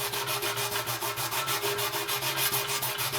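Steady rhythmic rasping of sandpaper rubbed back and forth on wood, close up, with even strokes and a faint background hum.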